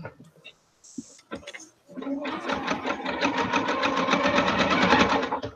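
A sewing machine stitches fabric with a steady, fast mechanical whirring and clatter that starts after a few brief clicks and handling sounds, running continuously and close for several seconds.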